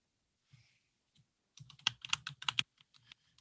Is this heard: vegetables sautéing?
no